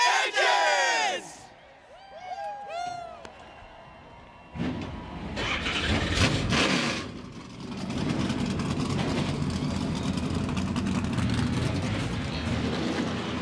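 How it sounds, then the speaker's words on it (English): At Bristol, a crowd whoops and cheers first. Then the NASCAR Craftsman Truck Series trucks fire up their engines together, and the field settles into a loud, sustained rumble. "Drivers, start your engines!"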